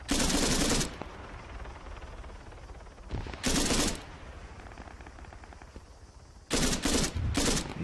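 Bursts of automatic gunfire from the Arma 3 combat game, King of the Hill mode: a long loud volley, a short burst, then several rapid closely spaced bursts near the end, with a quieter rumbling battle backdrop between them.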